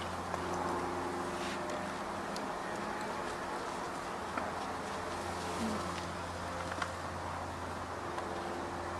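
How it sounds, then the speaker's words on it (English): Honey bees shaken from a package into a top bar hive, a continuous low droning buzz of many insects close by, steady throughout with faint knocks and rustles. "Just kind of shake off the bees."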